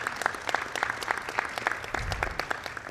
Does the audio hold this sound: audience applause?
yes